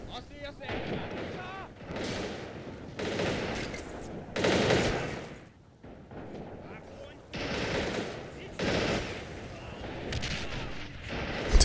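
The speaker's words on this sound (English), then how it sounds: "Two SMGs in a shootout." Submachine guns firing in a World War II video game shootout, a PPSh-41 against a Suomi, in repeated loud bursts of rapid automatic fire separated by short pauses, with a steady low background rumble.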